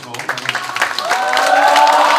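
Applause from a party-member audience at a political joint campaign rally in Jeonju, welcoming a youth committee candidate, a steady, swelling wash of clapping that builds and holds loud to the end.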